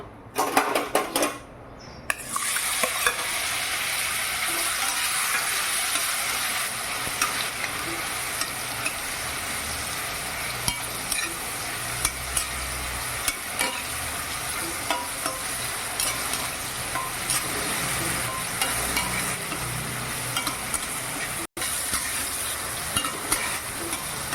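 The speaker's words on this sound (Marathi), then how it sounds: "आता आपण हे पाववाटी आधी पाववाटी आधी आपण तूप घालूया आणि आधी आपल्याला हे केळं फ्राय करायचं आहे" Banana pieces frying in ghee in a hot kadhai, a steady bright sizzle running throughout with occasional clinks of a spoon against the pan, after a brief knock at the start.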